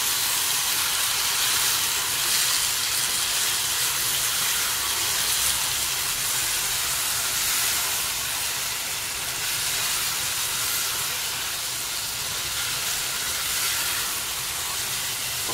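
Chopped tomato sautés in hot oil in a pan for fenugreek curry, a continuous close sizzling hiss that stays fairly even and loud throughout with no talking.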